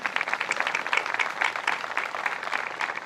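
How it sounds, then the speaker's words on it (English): An audience at a MADD ceremony claps in a short, steady round of applause, dense and fairly close. "Let's get a round of applause for him."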